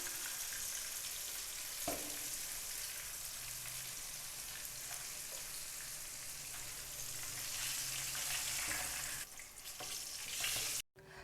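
Chicken egg koftas frying in hot oil in a kadhai: a steady, dense sizzle and crackle that runs throughout at moderate volume, with a few brief stirring knocks and no voices.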